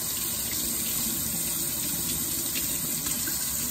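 Tap water runs steadily into a sink as a block of beeswax is washed under it, a close, continuous gushing rush without talk.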